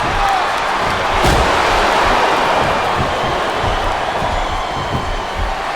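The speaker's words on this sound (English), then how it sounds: "It sounds like this capacity crowd has something on their minds, Taz." A loud, roaring arena crowd in the wrestling video game WWE SmackDown vs. Raw 2007 cheers and shouts continuously, a dense wall of noise with occasional louder swells.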